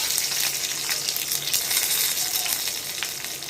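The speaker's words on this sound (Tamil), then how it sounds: "நெய் நல்லாவே சூடாகிடுச்சு. இப்போ முந்திரி, திராட்சை, ஏலக்காய் போட்டுப்போம்." Cashews, raisins and cardamom frying in hot ghee make a dense, continuous crackling sizzle up close, fairly loud and even throughout, with faint stirring and no speech.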